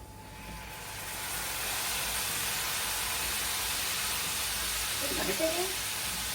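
Meat scraped from a plate into a pan of hot oil sizzles with a steady, fairly loud broadband hiss that holds for several seconds, with a brief faint flutter near the end.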